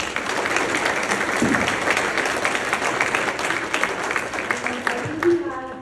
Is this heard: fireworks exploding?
no